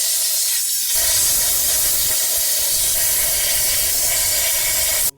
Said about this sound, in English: The air pressure blew up some more oil, so let's clean that off.